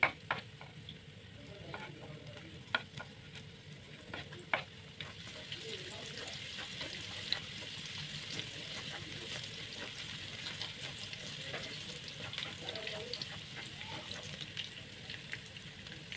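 Garlic frying in hot oil for a spicy tumis of intestines, a soft, steady sizzle with light spatula clicks and scrapes, fairly faint and continuous.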